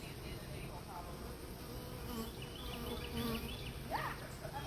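Honey bees buzzing steadily and close, a continuous droning hum with individual bees' pitch rising and falling as they fly past.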